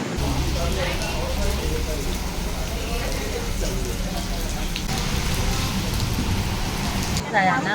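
Steady monsoon rain pours down without a break at a roadside bus stop in the Konkan, a dense hiss of drops pattering on surfaces, with faint murmuring voices in the background.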